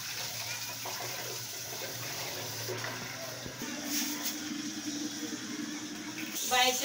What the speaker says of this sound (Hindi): अब हम इधर पानी मारते